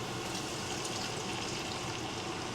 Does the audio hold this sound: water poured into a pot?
yes